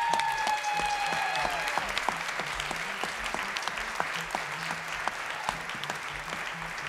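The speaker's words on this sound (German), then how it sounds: "macht bitte einen tosenden Applaus für Hernes besten Export" Loud, sustained applause and cheering from a poetry slam audience, dense clapping that fills the whole stretch with steady intensity and no talk over it.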